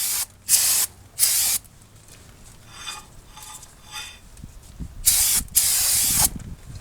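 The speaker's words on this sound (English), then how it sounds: "just spraying that with a little bit of brake clean" Brake cleaner is sprayed onto the rear brake rotor of a 2013 Volkswagen Passat in several sharp hissing bursts. Quieter handling noises fill the gaps between the sprays.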